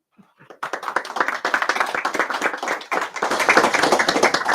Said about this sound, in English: If you want to welcome Dr. Soltes with a big round of applause